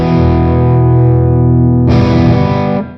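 An electric guitar played through an Amplitube 5 Orange amp model, channel B with reverb, rings out as a loud distorted sustained chord, then a second struck chord that cuts off abruptly.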